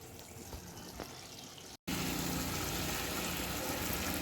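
Hot water pours steadily into a pan of pickle being cooked, a continuous loud rushing gush that starts abruptly after a brief quieter stretch and keeps going.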